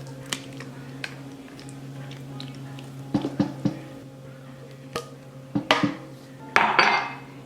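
A spoon spreads canned apple filling in a baking pan over raisins and biscuits, giving soft wet scraping punctuated by scattered metallic clinks and taps against the pan, close and unaccompanied by talk.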